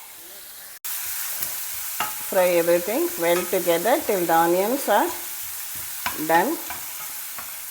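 Chopped onion fries with spices in a pan, giving a soft sizzle with stirring scrapes, while a tonal voice or melody sounds over the middle section.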